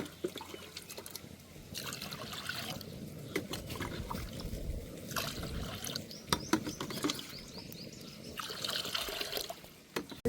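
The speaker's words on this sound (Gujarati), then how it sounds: "આપણે એમાં પાણી મૂકી દઈશું ગરમ કરવા." Water trickles and splashes into a cooking pot in uneven bursts, fairly quiet and close, as it is set to heat for rice.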